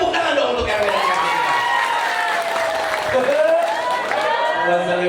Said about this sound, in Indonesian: Tepuk tangan dong untuk RW dan RT